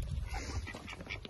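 A farm duck quacks softly nearby in an outdoor barnyard setting, a few low nasal calls over a steady background rumble with no talking.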